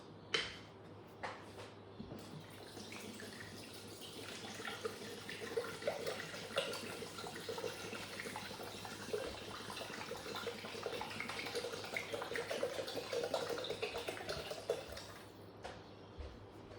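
Water pours steadily into a Thermomix bowl, 1,200 grams measured out for cooking spaghetti carbonara, a continuous splashing rush lasting about fifteen seconds with no talking.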